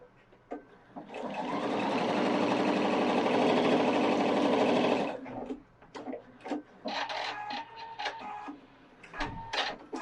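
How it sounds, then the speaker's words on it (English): A Pfaff 710 or 720 sewing machine runs a line of stitching in one steady, loud whirring stretch of about four seconds, then stops, followed by lighter handling clicks and taps. "So you'll sew a line of stitching"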